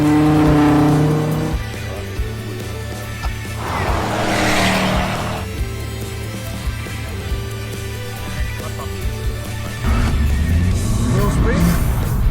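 Ferrari Roma car engine rumbling and revving with bursts of acceleration and tire noise, while people talk over it.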